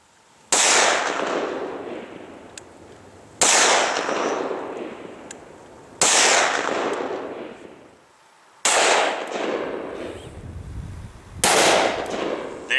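Five loud, sharp gunshots from an M&P full-size 9mm pistol firing 50-grain jacketed hollow point rounds into a gel block, spaced a few seconds apart, each with a long reverberant tail and no talking.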